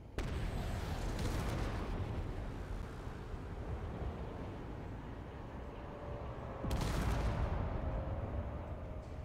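A ship slamming into small blocks in Space Engineers: a heavy crashing impact opens the sound, followed by sustained rumbling debris noise, then a second loud crunching burst of collision later on.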